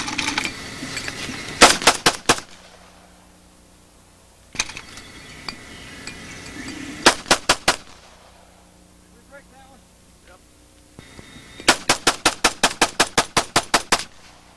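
Bursts of rapid rifle fire from fast and fancy exhibition shooting, sharp cracks in quick strings separated by pauses, with a final long rapid volley, close and loud.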